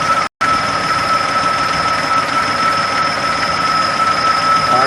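A Nissan VG33E V6 engine idling while warming up, a loud, steady drone with constant high whining tones, broken only by a brief cut at the start.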